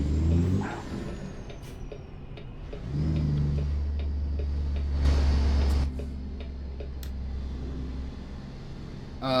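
A modded 950-horsepower truck engine in American Truck Simulator rumbles low and steady, with ticking and a burst of air-brake hiss midway, close and loud throughout.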